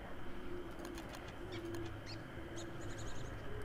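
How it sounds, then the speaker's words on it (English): Birds in the video game Don't Starve give soft cooing calls and scattered chirps over a steady ambient background hum, faint and without speech. "Hey, birds."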